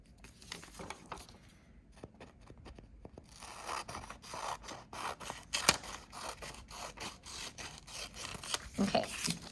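Scissors snip through paper while a kirigami star is cut, a close run of quick, crisp cuts and rustles that starts sparse and grows denser toward the end.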